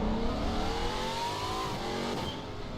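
A race car engine in RaceRoom Racing Experience accelerates with a loud, continuous whine that rises in pitch as it revs through the gears, steady and close with no talk.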